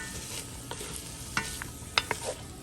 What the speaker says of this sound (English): Give this all a quick stir.